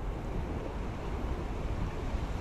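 Wind rushes steadily past the microphone beside a river, a continuous low roar with no voices.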